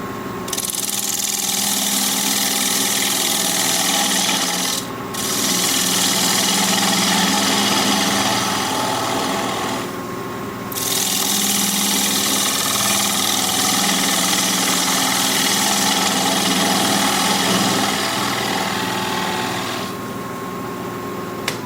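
A wood lathe runs steadily as a gouge cuts across the bottom of a turned bowl to flatten it, a loud continuous whir with rubbing tool noise, briefly pausing twice before resuming.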